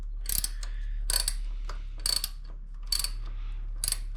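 A ratchet tightens bolts on a KTM 1190R motorcycle engine with a steady run of soft metallic clicks. The clicks come in short bursts roughly once a second and sound close but fairly quiet.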